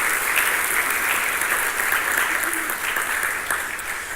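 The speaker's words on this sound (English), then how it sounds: "receive a well-deserved round of applause" An audience applauds faculty members standing to be recognized at a college cybersecurity event, a full, sustained round of clapping from a large crowd, loud and even with faint voices underneath.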